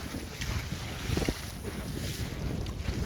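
Steady gusting wind roars across the microphone while wind winging on open water, a continuous rushing blow with no voices.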